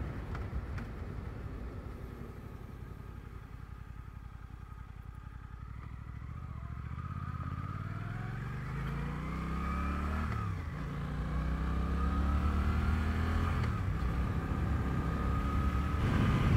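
Suzuki GSX-8S motorcycle engine accelerating, with a loud, close engine note climbing steadily through the gears, brief dips at each shift and rising again, continuous for the whole stretch with no talking.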